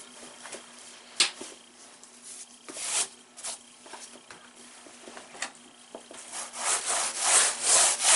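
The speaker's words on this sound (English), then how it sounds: "I'll grab my flesher and just get any of that excess fat from my knife strokes off." A flesher scrapes excess fat off an otter hide in repeated rough rasping strokes, close and fairly quiet at first, growing denser and louder toward the end.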